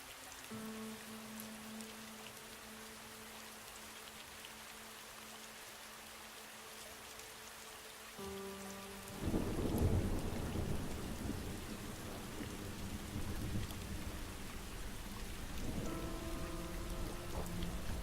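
Rain falling on a spring morning in Asheville, a steady patter that swells louder partway through, with low rumbles like thunder and faint tonal hums underneath.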